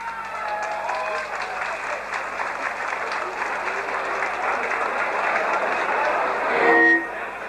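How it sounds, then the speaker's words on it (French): Steady applause from an audience at a company staff Christmas party, a dense even patter that swells slightly near the end before easing off. "et là vous allez l'applaudir, Chanala."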